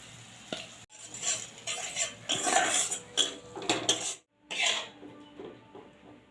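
A spoon scrapes and clanks against a pot while chicken is mixed with masala, yogurt, a little sugar and kasuri methi, giving irregular metallic clinks and stirring rasps with short pauses between bursts.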